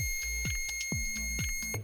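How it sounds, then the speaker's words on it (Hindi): A digital multimeter's continuity buzzer, a Uni-T unit, beeps as its probe wires are shorted together; several short sharp beeps come in an irregular series, loud and close, with no talk. "जब मैं इन दोनों वायर्स को आपस में शॉर्ट करता हूँ तो बीप बजती है"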